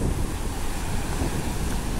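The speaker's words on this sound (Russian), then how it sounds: "волна находит, она вас накрывает" Sea waves wash onto a beach in Montenegro, a loud continuous roar of surf heavily mixed with rumbling wind buffeting the microphone.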